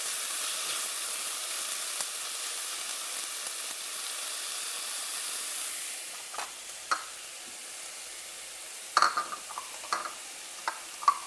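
Chopped tomatoes sautéing with browned onion in a pan give a steady broadband sizzle, then a series of sharp stirring scrapes and taps in the later seconds, close by with no talking.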